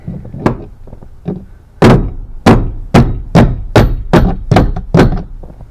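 Hammer blows knock the bottom cab mount bushing off a Ford F250. About nine loud, heavy metallic strikes land close by in a steady rhythm, starting with a few lighter taps and ending with evenly spaced hard hits, with no talk.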